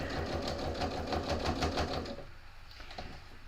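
A sewing machine stitches through cotton batting in a fast, even rhythmic whir for about two seconds, then stops, leaving only a faint room background with a few soft clicks.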